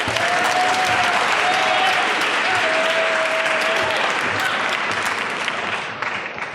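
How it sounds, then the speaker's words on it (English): An audience at the Cleveland Rose Princess Assembly gives loud, sustained applause after a piano performance, a thick continuous roar of clapping with a thin tone running through it that eases slightly at the end. "Give a round of applause."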